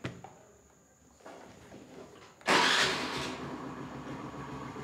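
A Honda Activa scooter cold-starts after an engine rebuild: quiet handling noises, then a sudden loud catch into a steady idle that settles slightly, alone without talk.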